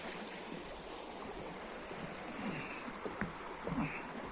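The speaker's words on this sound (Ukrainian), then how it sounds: "везде вода тече" Water flowing and trickling through a spring-fed path near Skhidnytsia in April, a soft continuous broadband wash with small splashes, quiet and close, without talk.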